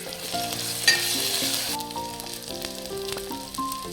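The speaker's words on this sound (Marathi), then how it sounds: "आता आपण मटणासोबत चरबी आणलेली होती ती चरबी आधी टाकूया" Mutton fat goes into hot oil with onions already fried pink, sizzling steadily up close while a utensil clinks and scrapes as it is stirred, no voices.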